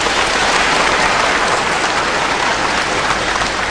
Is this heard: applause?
yes